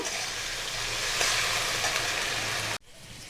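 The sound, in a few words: cauliflower frying in a pan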